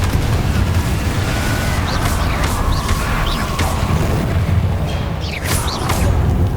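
A steady, loud roar of magical fire and explosion blasts from Confringo and Incendio spells in the video game Hogwarts Legacy, with deep rumbling throughout and sharp crackling bursts layered on top.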